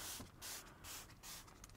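Koch Chemie MultiInteriorCleaner sprayed generously onto car upholstery: four quick, close hissing trigger bursts in an even rhythm, with faint quiet between them.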